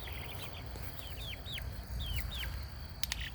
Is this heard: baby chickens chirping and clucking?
yes